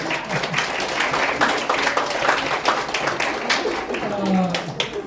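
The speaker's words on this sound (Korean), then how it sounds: "박수 한번 좀" Audience at a Korean care-program gathering applauds a toothpaste company executive: steady, dense clapping throughout, with voices mixed in underneath.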